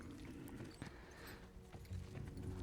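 Orc rider's horse hooves clopping at a steady walking pace in Warcraft III Reforged, a dense rhythmic clatter held low under game ambience with a louder burst of steps near the end.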